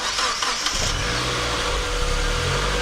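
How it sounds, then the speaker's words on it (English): A Mazda Miata engine cranks briefly and catches, then settles into a steady, close idle rumble that carries on to the end. "I need to start the car first, and then pull out the fuse"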